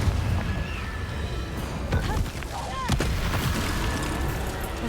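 A Confringo fire spell blast in Hogwarts Legacy, heard as a dense, loud burst of booming, crackling explosive energy with sharp impacts layered over a continuous rumbling game soundscape.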